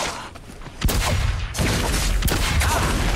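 Cannon fire in the video game Naraka: Bladepoint: several sharp, loud blasts in quick succession with rumbling low-end booms and a dense, crackling tail between shots.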